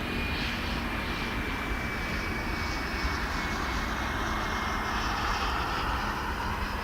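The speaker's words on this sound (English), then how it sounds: "we got an aircraft coming in from Laredo" Aircraft arriving at DFW Airport in the dark, a steady, broad engine roar with a faint high whine, holding at an even loudness throughout with no talking.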